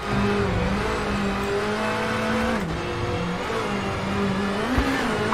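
Rally car engine from the WRC 8 video game drones steadily on a snowy stage, revs rising and falling through gear changes with a brief tire squeal, loud and continuous with no talk.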